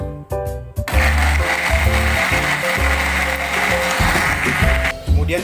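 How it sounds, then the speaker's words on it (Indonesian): Electric blender grinding spice paste for homemade fried noodles until smooth, a loud continuous whirring motor with shifting pitch as the blades chew through, preceded by a brief start-up. "Kita blender bahan bumbu tadi menjadi halus."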